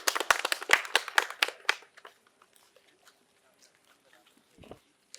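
An audience at a medical college quiz prize giving claps in a dense burst of applause that quickly thins into a few scattered claps and fades to near silence.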